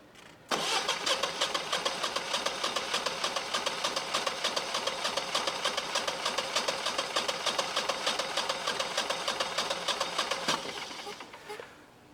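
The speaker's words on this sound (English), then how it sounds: "we gotta wait for gas to get enough up to the generator" A new generator's engine cranks and fires up, running with a steady rapid mechanical chug for about ten seconds before winding down, close and fairly loud.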